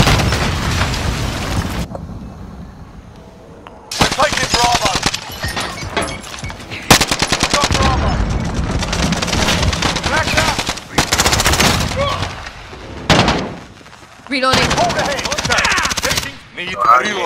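Gunfire and grenade blasts from a Call of Duty: Modern Warfare multiplayer match: dense machine-gun bursts and heavy explosions come in loud waves, broken by short quiet gaps, with brief voices shouting over the combat.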